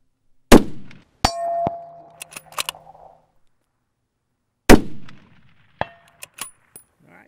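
A Howa HCR rifle fires two sharp, loud shots a few seconds apart, each followed about a second later by the bright metallic ring of a steel target struck at 300 yards, with faint clinks trailing off in an otherwise quiet outdoor range.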